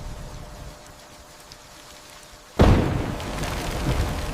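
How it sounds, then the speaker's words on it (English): Heavy rain drums against windows on a stormy night, starting as a quiet hiss before a sudden loud crash of a downpour or thunder that keeps roaring densely to the end. "The rain is hitting the windows loudly."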